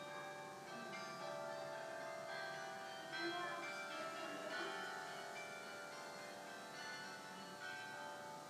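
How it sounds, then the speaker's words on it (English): Machine-struck church bells chime in an Ohio bell tower, their faint ringing tones sustained and overlapping from a distance. "there's machines that hit the bells"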